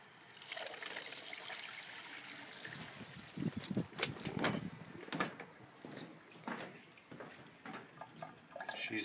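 Water trickles and splashes faintly as it fills a newly glued PVC rain gutter grow system in a winter greenhouse, with irregular drips and gurgles growing busier over time.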